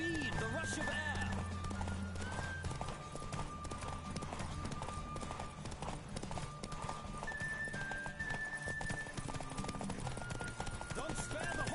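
Racing horse in The Witcher 3 thunders along at full gallop, steady rapid hoofbeats filling the scene alongside a short neigh, with music and occasional speech over the top.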